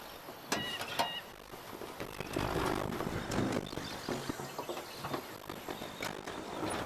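A car in the video game Life is Strange: Before the Storm fails to start because of busted spark plugs. Several short, weak grinding cranks and clicks come from the starter, with a brief churning attempt in the middle, heard near and moderately quiet.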